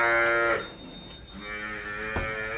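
A young crossbred dairy heifer at a cattle sale gives two close, loud moos, the first long and drawn out and the second following after a brief pause.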